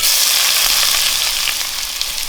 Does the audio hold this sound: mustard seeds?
yes